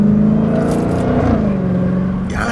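A Dodge Hellcat's engine gives a loud, steady high whine as it accelerates, heard up close with no talk over it.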